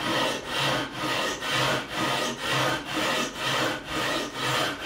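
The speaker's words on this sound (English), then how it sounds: "leveling beam, 240 grit on this side, and we're just gonna scoot across these frets" Rhythmic back-and-forth scraping of 240-grit sandpaper on a leveling beam rubbed across the frets of a 2005 Fender Standard Stratocaster, about ten steady strokes, close and loud.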